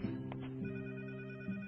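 An old-style telephone bell rings in short repeated trills indoors, fairly faint against a low steady hum.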